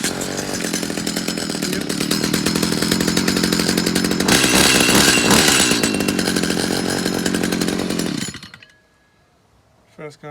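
A petrol string trimmer, primed with the choke on, starts and runs at a loud, steady, raspy two-stroke roar up close, then cuts out abruptly near the end, leaving quiet with a faint thump.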